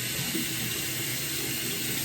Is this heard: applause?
no